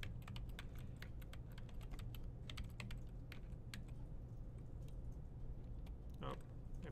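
Light tapping on a computer keyboard while entering code into a browser console, irregular quick keystrokes, denser early then sparser, over a low steady hum, with no voice.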